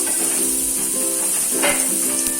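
Chopped spring onion frying in a hot pan while making spring rolls, giving a steady close sizzle with small crackles and a brief stirring scrape, with no one talking.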